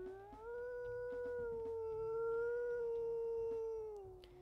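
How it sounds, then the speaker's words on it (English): A long, sustained wolf howl from the video game WolfQuest holds a steady pitch and glides slightly downward, clear and prominent, with a faint higher overtone layered above. "Let's listen to her howls."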